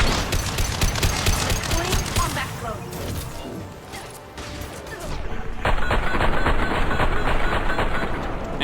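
Rapid bursts of video game gunfire rattle through much of the stretch, loud and dense with short gaps, while a voice talks over the action.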